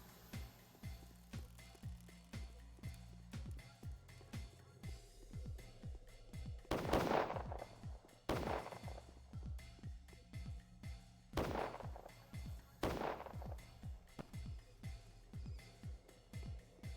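Gunfire in the video game Pathologic Classic HD, a series of sharp shots with reverberant tails: a fast rapid patter of small pops plus four louder, booming blasts spaced a few seconds apart over a low background hum.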